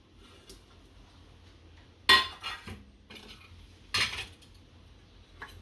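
Carrots and cabbage tipped into a pan for Manchurian: a couple of sharp clinks and scrapes of a spoon against the pan, close, separated by quiet pauses, no voices.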